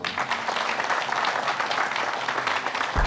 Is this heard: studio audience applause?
yes